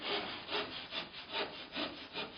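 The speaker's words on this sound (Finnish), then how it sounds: "Oviaukko lovetaan kiinnityksen jälkeen sahaamalla lyhyet sivut käsisahalla." A hand saw cuts short edges of gypsum plasterboard at a door opening during partition wall construction, giving steady rhythmic back-and-forth rasping strokes, about five or six, close and alone.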